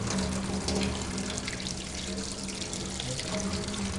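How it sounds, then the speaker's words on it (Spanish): Water boils in a glass flask under reduced pressure after being cooled with cold water, giving a steady, close bubbling and hissing wash throughout with no talking. "vemos la continuidad de la ebullición."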